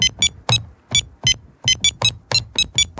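A sequence of bright, pitched electronic beeps plays a short melody on a Casio sampler, about a dozen notes in a bouncy rhythm, loud and alone.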